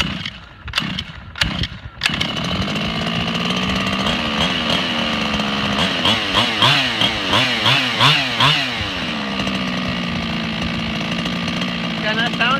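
A Losi 5T gas-powered RC truck engine starts with a few sharp pulls, then catches and runs with a buzzing two-stroke drone that revs up and down in waves before settling to a steady idle, loud and close.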